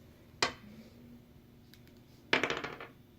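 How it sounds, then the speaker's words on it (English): Dice for a board game hit a hard surface, first a single sharp click, then after a pause a louder clattering tumble of quick rattling bounces, faint and close with no talking. "you need to roll 1 dice"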